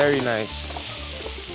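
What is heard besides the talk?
goat meat searing in a pan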